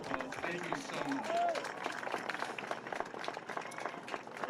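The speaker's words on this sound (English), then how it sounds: "Can we give him another applause?" Audience clapping fills the clip, a dense steady patter with some voices and brief tonal sounds mixed in near the start.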